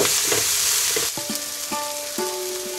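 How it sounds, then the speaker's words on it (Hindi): Onions fry in oil in a pan as a steady, close hiss. Partway through, clinking metallic taps of a spoon against the vessel join in and ring out over the sizzle. "पुणी टिके पियाज को फ्राए कर"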